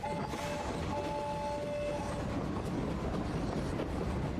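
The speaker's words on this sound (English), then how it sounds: "We'll wave goodbye to the train." A train departs in the video game My Time at Sandrock with a loud, steady rumble of rolling wagons and rail clatter. A sustained horn-like whistle tone sounds early on and then fades, leaving the continuous roar.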